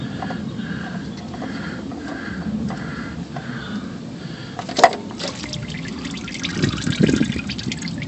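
Motor oil drains from a 2001 Dodge Ram 1500 truck into a pan, a faint continuous trickle with occasional drips and clinks heard close by.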